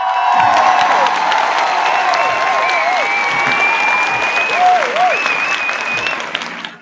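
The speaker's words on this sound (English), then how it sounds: "I need a round of applause on that" A crowd breaks into loud, sustained applause with cheering and whoops, steady and close throughout before fading at the very end.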